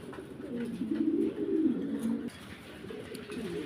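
A pair of Modena pigeons cooing close by, low rolling coos repeating through the short clip with no talk over them.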